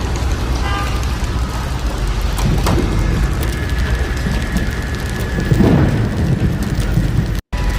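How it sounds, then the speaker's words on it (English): Heavy rain pours down during a hailstorm, a dense roaring wash with sharp clattering impacts and occasional low rumbles, loud and close, cut by a brief dropout near the end. "There's the hail coming down in one direction."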